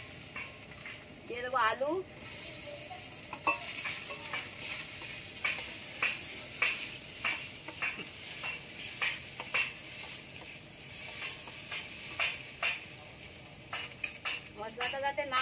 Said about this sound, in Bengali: ভালো করে কষিয়ে নিতে হবে মশলাটা